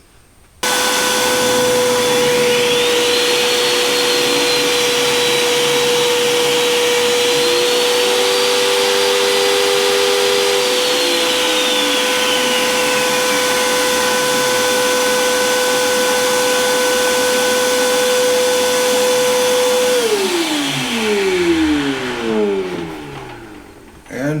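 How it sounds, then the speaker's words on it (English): A jointer machine planes the edge of a wood board: the motor spins up to a loud steady whine, the pitch shifts as the cutterhead bites into the wood, then the motor spins down near the end. "Let's joint this one edge of this board."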